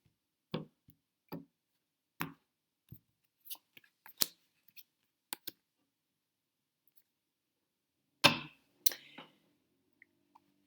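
Tarot deck being cut by hand, a string of short, crisp card snaps and taps spaced irregularly, close and fairly quiet, with a louder riffling flurry near the end and no talking.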